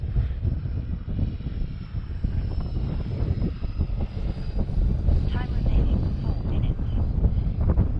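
An E-flite F-15 RC model jet flies past on a windy day, with a continuous hollow whooshing drone rising and falling over buffeting wind noise at moderate distance.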